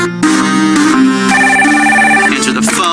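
A telephone rings loudly in The Room Tribute video game, an electronic tonal ringtone with stepped, sustained pitches that plays continuously for about three seconds.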